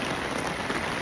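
A sudden downpour patters densely and evenly on a surface close by, loud and steady with no pause.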